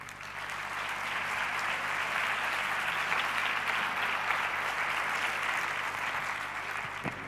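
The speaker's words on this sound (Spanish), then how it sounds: "Un fuerte aplauso para Andoni." A large crowd at the Diabetes Experience Day 2016 event applauds steadily and loudly, a dense wash of clapping that holds for several seconds before easing slightly at the end.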